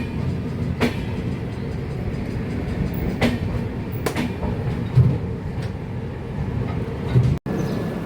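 Aboard a Vande Bharat train near Kamakhya station, a steady rolling rumble of the running train carries on throughout, broken by occasional sharp clacks and bumps.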